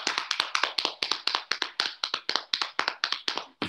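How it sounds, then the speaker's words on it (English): A group pats their legs in a rain-making activity, a fast, dense patter of overlapping slaps that runs continuously at an even pace, close and fairly loud with no talking. "Pat your legs."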